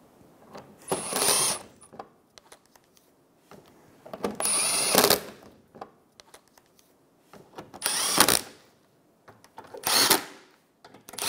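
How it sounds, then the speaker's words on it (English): A power ratchet or drill whirs in four short bursts, each about a second long with quiet pauses between, as bolts are tightened on the radiator of a 2014–2019 Toyota Highlander, close and loud. "Then go around and tighten up all your bolts."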